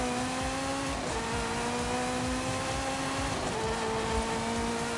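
A sports car engine in a racing video game drones steadily as it accelerates, with the pitch dipping at a couple of gear changes and no voices over it.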